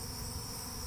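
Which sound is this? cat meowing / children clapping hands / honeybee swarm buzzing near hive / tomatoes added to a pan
honeybee swarm buzzing near hive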